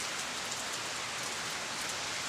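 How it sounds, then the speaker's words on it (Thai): Light rain falls steadily in the early morning outdoors, a dense, even hiss of drops pattering on surfaces with no voices or other sounds. "มื้อนี้ก็ฝนตกแต่เช้าอีกแล้ว ฝนยุยๆลงมา"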